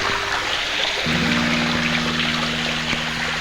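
Spring water pouring into a pool on a trail, a continuous close splashing trickle with a steady bright hiss and a faint tonal hum underneath.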